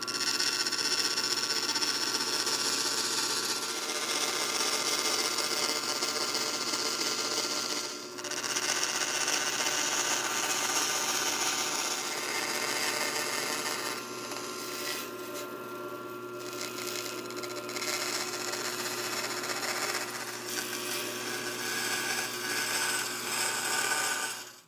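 A bandsaw rough cuts a square wooden blank for a guitar pickup bobbin plate, giving a steady, close rasping whine that runs nearly throughout with brief dips between passes.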